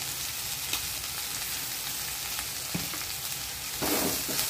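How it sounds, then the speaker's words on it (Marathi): Okra slices fry in a pan with oil and salt, giving a steady, close, bright sizzle. A brief scraping stir swells louder near the end, and no one speaks. "भेंडी चांगली आपली सुटसुटीत होईपर्यंत शिजवून घ्यायची आहे आपल्याला"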